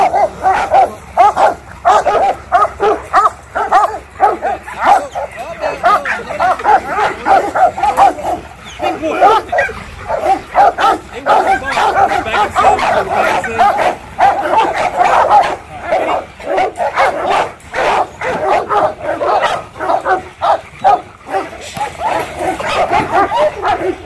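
Dogs playing rough bark repeatedly and excitedly, with yips and whimpers mixed in, loud and close in rapid irregular bursts throughout.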